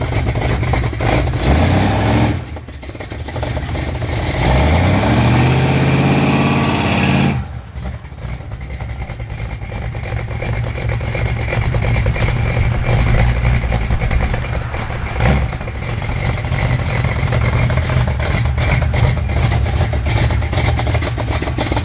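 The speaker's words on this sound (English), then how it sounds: "let go of the brake and stomp the gas" A car engine held at high revs against the brake drones loudly, then the pitch sweeps upward as the vehicle launches from a stop and settles into a sustained, rough roar of acceleration.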